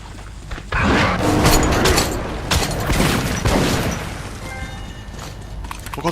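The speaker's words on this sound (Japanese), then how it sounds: "爆発した？" A video game explosion erupts as a loud, heavy blast with crackling debris, rumbling for several seconds before fading into softer mechanical clatter and tonal effects.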